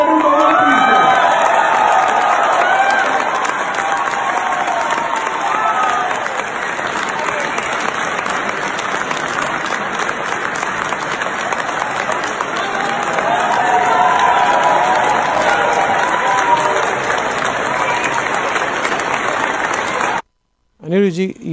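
A crowd at a Khalistani event speech cheers and applauds in a standing ovation, loud sustained clapping and shouting that rolls on for about twenty seconds before cutting off abruptly.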